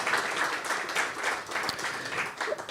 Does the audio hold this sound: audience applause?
yes